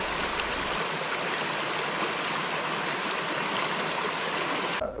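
Water pours steadily from a restored village fountain in Leivartzi, Achaia, a constant close splashing rush with no voices.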